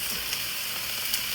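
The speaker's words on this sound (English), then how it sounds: "we're gonna let this saute for 3 minutes" Chicken and zucchini seasoned with salt, pepper and garlic powder sauté in a skillet, giving a steady, soft sizzle with faint crackles throughout and no voices.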